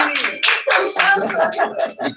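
A small family audience gathered at home claps briefly, a few bursts of hand claps with some light laughter mixed in, close and fairly loud.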